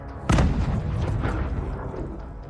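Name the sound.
landmine exploding under a Russian tank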